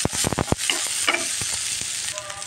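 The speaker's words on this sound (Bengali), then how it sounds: "এখন আমি এটাকে সুন্দর করে কষিয়ে নিই" Pointed gourd mash with chopped onion and black cumin sautéed in a pan, a spatula scraping in quick strokes over a steady sizzle, then continuing more softly with sharp clinks.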